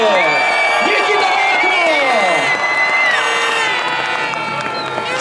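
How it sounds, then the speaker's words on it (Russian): Crowd at an ice speedway race cheers, whoops and applauds loudly and steadily after a fall, with shouting voices rising over a dense, continuous roar of clapping. "Аплодисменты!"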